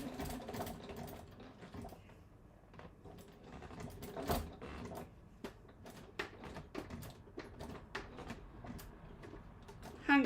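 A hand-cranked sewing machine stitching fabric, giving quick irregular bursts of mechanical clicking and ticking with short pauses, close by and fairly quiet, without speech.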